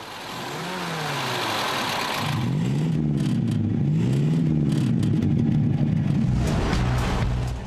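The 3.8-liter V8 engine of a 1937 Horch 930 V car runs and revs, its deep rumble rising and falling in several swells before settling into a steady idle.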